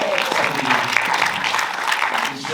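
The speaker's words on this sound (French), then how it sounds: "Je me fais applaudir parce que j'ai dit israélien, vraiment" Audience applauding at the opening of an Israeli film festival in Marseille, sustained steady clapping with faint voices mixed underneath.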